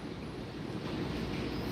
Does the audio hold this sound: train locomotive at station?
yes